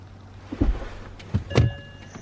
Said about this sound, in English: You can hear when the ISM does that, when it shifts.